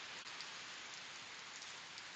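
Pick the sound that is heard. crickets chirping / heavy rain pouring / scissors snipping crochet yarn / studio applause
heavy rain pouring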